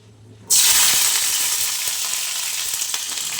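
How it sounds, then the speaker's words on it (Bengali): Cauliflower dropped into hot oil in a pan bursts into a loud, sudden sizzle after a quiet moment, then keeps up a steady, bright frying hiss that fades only slightly. "ফুলকপিটা এখন ভাজতে দিয়ে দিই"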